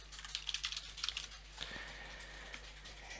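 Someone types on a computer keyboard into a Word Online document, producing a short burst of close, quick key clicks over a steady low hum, then quieter taps.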